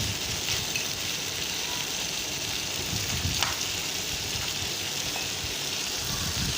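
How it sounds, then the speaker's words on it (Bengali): Crabs frying in a pan give a steady, dense sizzle that holds evenly throughout, with faint crackles and no voices. "তো এটাকে আমি ভালো করে ভেজে নিচ্ছি"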